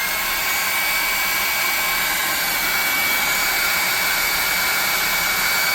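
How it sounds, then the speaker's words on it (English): A hair dryer blows continuously on a painted model with a steady, loud whoosh and high whine, close up and unchanging. "We're going to hit this with the dryer again one time real quick"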